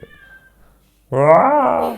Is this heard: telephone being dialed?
no